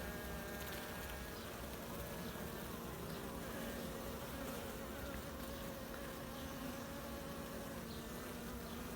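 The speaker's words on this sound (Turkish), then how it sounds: "Arı çalışıyor ana arı." Dense, steady buzzing of many honeybees up close inside a hive with laying worker bees, a continuous droning hum without pause.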